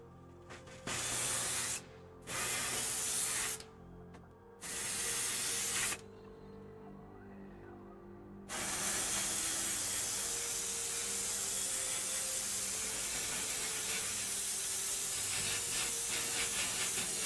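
Army Painter matt varnish spray can sprays in several short hissing bursts with brief pauses, then one long continuous spray, close and loud.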